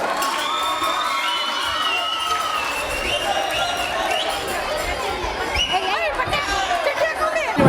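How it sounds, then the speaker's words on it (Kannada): Parents and children in an audience at a school cultural event clap and cheer loudly, with shouting and excited chatter mixed into the crowd noise that swells toward the end. "ಚಪ್ಪಾಳೆ"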